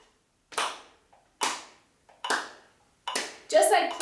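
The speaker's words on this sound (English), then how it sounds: "So one clap per click" Single crisp hand claps land one per metronome click, four evenly spaced sharp claps with faint ticks between, close and dry, ending in a brief overlap of voice.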